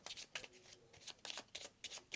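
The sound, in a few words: shuffling a deck of game cards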